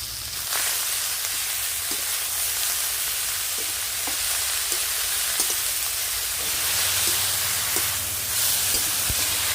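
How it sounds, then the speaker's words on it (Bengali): Steady hissing sizzle of leafy greens frying in a wok with salt and turmeric, with a spatula tapping and scraping at irregular intervals as the greens are stirred. "শাক ভাজার সময় ভালো করে নেড়ে চেড়ে দিতে হবে"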